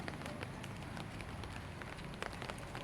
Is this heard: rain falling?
yes